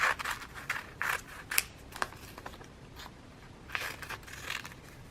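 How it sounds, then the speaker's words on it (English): Scissors snip wrapping paper into smaller pieces for a collage, a run of quick crisp cuts in uneven bursts, close and clear with short pauses between groups. "I'm going to cut these into smaller pieces for the collage."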